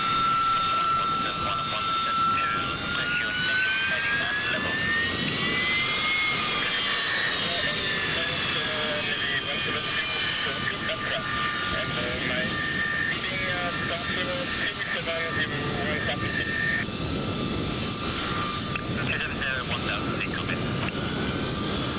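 A cargo jet at East Midlands Airport roars steadily and loudly nearby, a sustained whining turbine drone with rising and falling tones that fills the whole stretch.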